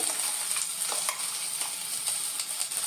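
Soya chilli with chilli paste roasting in a pan makes a continuous close sizzle broken by frequent light spoon scrapes and taps as it is stirred, with no voices.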